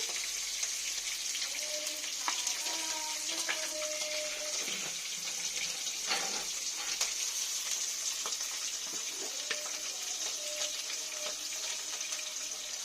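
Pomfret fish pieces fry in mustard oil, a soft, steady sizzle heard at a distance with scattered faint pops and clinks.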